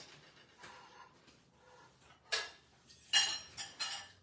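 Dishes being washed, with scattered clinks and clatters of plates and utensils, soft and close, with a few sharper knocks toward the end and quiet gaps between.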